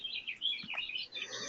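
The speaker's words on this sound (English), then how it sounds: "Birds chirping and all." Small birds chirp faintly around backyard bird feeders beside a screened-in patio, a quick run of thin high tweets heard from a distance.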